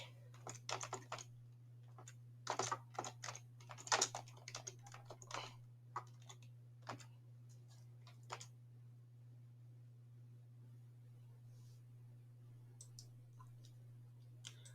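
Fast keyboard typing, bursts of quick key clicks for about eight seconds, then sparse taps, over a steady low electrical hum in a quiet room.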